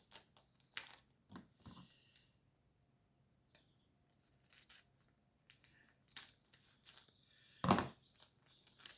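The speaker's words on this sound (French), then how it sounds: "Je vais essayer de couper droit déjà." Paper being cut with a pair of scissors for a collage, giving short crisp snips and crinkles in scattered bursts, close and fairly quiet, with one louder rustle near the end and no talking.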